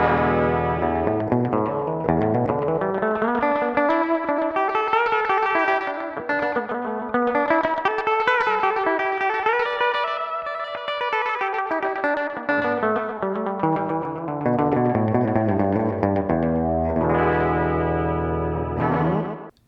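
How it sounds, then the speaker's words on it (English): Roland RE201 Space Echo tape echo applied to a melodic synth or guitar line, with repeating echoes trailing each note in a steady, washy tail that swells and falls across the phrase, loud and close with no talking. "let's swap out the chorus for a Roland RE201 Space Echo and have a listen to that"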